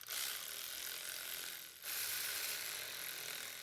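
A ratchet drives in the starter motor bolts on a 2006-2012 Toyota RAV4, making a steady, dense rasp of rapid clicks that breaks off briefly and then resumes, fairly quiet and close.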